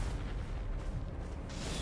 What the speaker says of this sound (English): it's the powder explosions, which are easier to place than ever